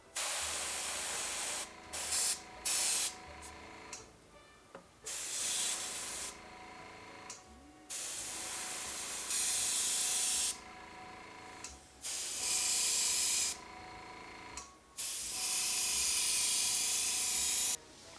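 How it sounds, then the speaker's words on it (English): An airbrush dusts a bright green base coat onto a Slimer model, giving loud close hissing bursts of spray separated by short pauses and a few brief clicks. "So I'm just going to use my airbrush here, and we're just going to dust this with"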